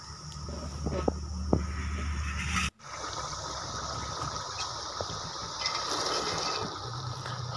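Water is poured into a cooking pan of frying onions and spices for a potato and mongray curry, giving a steady gushing, sizzling wash after a brief gap, moderately loud and close, with no talk.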